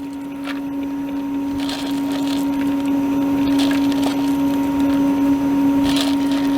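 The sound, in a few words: water ice machine dasher churning mint chocolate chip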